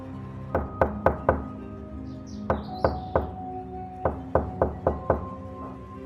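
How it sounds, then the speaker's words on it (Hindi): Heavy pounding on the wooden door of a house at night, in a Hindi moral story about Yamraj coming for an old man: four spaced groups of loud, sharp knocks, three blows each, close and alone, with no talk. "दरवाजा पीट पीट के तोड़ने का इरादा है क्या?"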